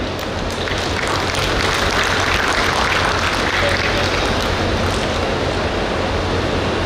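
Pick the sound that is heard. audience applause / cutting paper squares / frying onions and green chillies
audience applause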